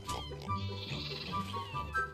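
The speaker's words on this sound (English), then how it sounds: "Next we got baby sheep, of all the different colors" A baby sheep in the Minecraft video game bleats in a few short, wavering calls, close and clear, with no other sounds around it.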